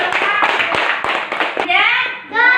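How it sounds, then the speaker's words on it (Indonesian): A classroom of children applauds a man, a dense burst of close clapping for about a second and a half, followed by children's voices chattering. "kita kasih tepuk tangan untuk Bapak"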